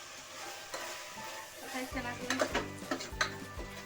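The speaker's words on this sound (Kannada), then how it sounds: "ಎಣ್ಣೆಲಿ ಫ್ರೈ ಮಾಡ್ಕೊಬಿಟ್ಟು ಚೆನ್ನಾಗಿ" Ground masala spices fry in oil in a cooking pot, starting as a faint hiss before a run of clattering metal stirring and louder sizzling takes over, with a voice briefly speaking.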